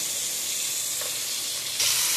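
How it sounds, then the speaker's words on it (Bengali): Fish fries in oil in a pan, a loud, steady, close-up sizzle with a faint clink partway through and a surge of hiss near the end, with no voices. "মাছটা ভাজা হচ্ছে।"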